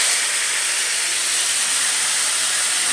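Tomatoes dropped into hot oil tempered with mustard seeds for a chutney, giving a steady close hiss of sizzling with no talk.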